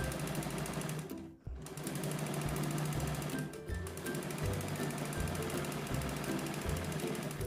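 A sewing machine runs steadily close by, stitching shut the open side of a baby sofa, with a rapid mechanical clatter and one short pause before it starts again, no voices.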